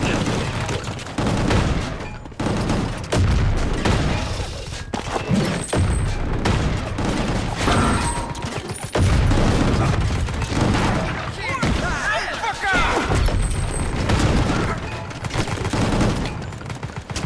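Bombs and heavy gunfire in the video game Gungrave Gore, dense, loud bursts of explosions and rapid shots piling up almost without pause, with speech mixed in.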